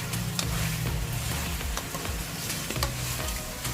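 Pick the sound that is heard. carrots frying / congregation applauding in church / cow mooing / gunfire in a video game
carrots frying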